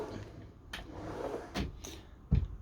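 A drawer opening or closing inside a luxury Frankia Platin i7900 motorhome, with a few soft knocks and slides ending in one firm, close thud.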